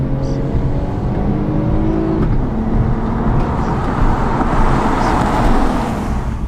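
A 2020 Toyota Camry TRD with a 3.5-liter 301-horsepower V6 revs hard accelerating from 0 to 60, the pitch climbing through the gears, loud and close from inside the cabin.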